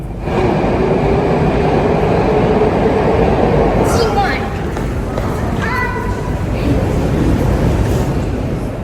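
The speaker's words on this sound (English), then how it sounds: "So I'm going down into the Moscow metro" A Moscow metro underground train rumbles loudly and steadily throughout, with brief squeals and clanks of wheels and carriage near the middle and end, a continuous close, dense roar.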